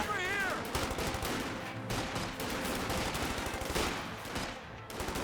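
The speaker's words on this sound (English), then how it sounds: "Pathfinders and riflemen firing away" Rifle fire crackles in the Company of Heroes 2 video game as pathfinders and riflemen shoot in dense, overlapping bursts, with a voice talking over the battle noise.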